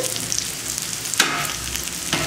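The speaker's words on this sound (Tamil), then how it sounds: "2 ஸ்பூன் எண்ணெய் ஊற்றிருக்கேன், காஞ்சிருச்சு. அதில் வெங்காயம், வெள்ளைப்பூண்டு, வரமிளகாய், தேங்காய் இது 4 நல்லா வதங்கியாச்சு" Onion, garlic, dried red chilies and coconut sauté in oil with a steady, close sizzle and two brief scraping stirs of a spoon across the pan.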